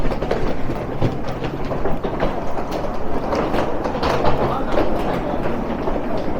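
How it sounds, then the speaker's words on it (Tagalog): A subway train runs along the rails at a Seoul metro station, giving a continuous loud rumble with rhythmic clattering and mechanical rattles that fill the space. "Nakababa na kami ng tren ni Nanab."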